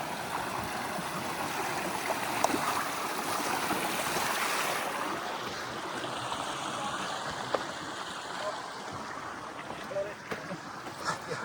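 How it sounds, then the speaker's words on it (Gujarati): A mountain stream on the trail to Harihar Fort in Nashik, Maharashtra, rushes with a steady, broad hiss of flowing water throughout, with a few faint clicks and bumps. "આ જો ઝરણું."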